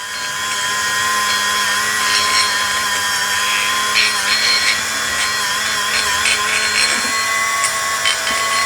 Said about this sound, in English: Like I say, this Dremel is a great tool.